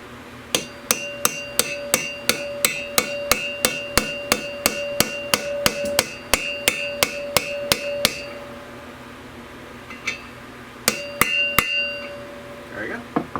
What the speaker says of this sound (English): Put this on top and hammer it down.